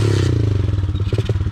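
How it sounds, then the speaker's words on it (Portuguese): A mini motorbike engine runs close by at a steady, buzzing idle with a pulsing low rumble, joined by light clatter and scraping, ahead of a ride to a riverbank campsite. "Pegar a mini moto aqui e vamos lá pra beira do rio, velho"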